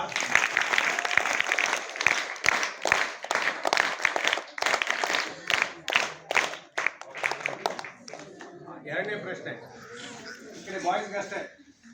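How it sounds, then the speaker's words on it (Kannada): Students at a residential school clap together in a brisk burst of applause that rings out for several seconds, then tapers off into scattered murmuring voices. "ಕೀರ್ತಿ ಸ್ವಲ್ಪ ಚಪ್ಪಾಳೆ ಬಿಡ್ರಪ್ಪ"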